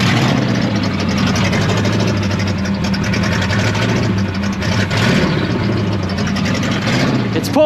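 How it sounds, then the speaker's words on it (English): A 1984 Chevrolet Monte Carlo race engine idles loud and steady with a rough, rhythmic throb and top end ticking, low voices faintly underneath. "There's a little bit of top end noise in there."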